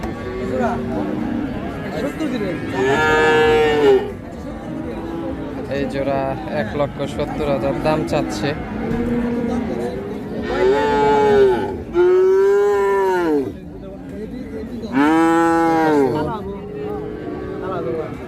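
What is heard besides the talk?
cattle mooing at market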